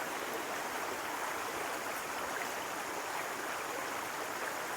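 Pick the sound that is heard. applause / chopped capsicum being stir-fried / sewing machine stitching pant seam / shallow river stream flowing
shallow river stream flowing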